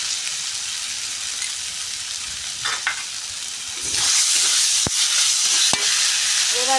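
Pointed gourd and shrimp curry sautéing in a pan, a steady close sizzle that swells louder partway through, with sharp clicks of a spoon stirring and scraping against the metal.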